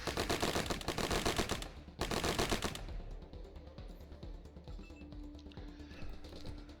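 Rapid bursts of turret machine-gun fire in the video game Wasteland 3, loud and dense for about three seconds with a short gap, then fading into quieter game ambience.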